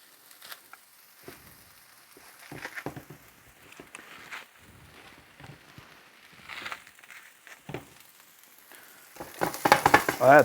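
Green onion torn by hand and dropped into a hot pan for a backyard breakfast, sizzling steadily with scattered soft stirring taps, growing louder and more crackly toward the end.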